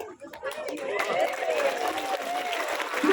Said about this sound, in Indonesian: Tidak usah tepuk tangan